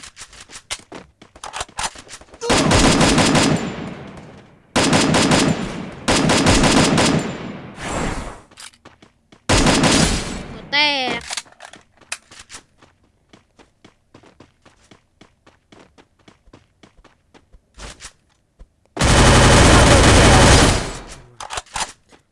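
Gunfire in the Free Fire video game: several loud bursts of automatic fire separated by quieter gaps with scattered shots and footsteps, up close.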